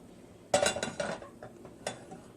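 Metal pans clatter and scrape as they are shifted between burners on a home kitchen stovetop while cooking entomatadas, a cluster of clinks and knocks over about a second and a half, then one lighter clank.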